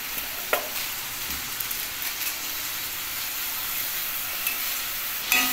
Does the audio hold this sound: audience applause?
no